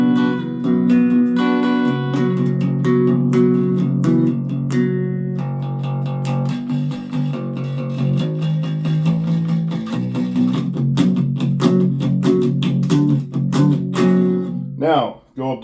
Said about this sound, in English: So here's both pickups clean.